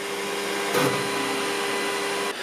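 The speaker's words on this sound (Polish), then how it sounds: "No i teraz drukarka wykonuje zdjęcia wydrukowanego wzoru." A Creality K2 Plus 3D printer running flow filament calibration gives a steady, loud whirring hum like fans, with a brief louder surge near the start and an abrupt drop near the end.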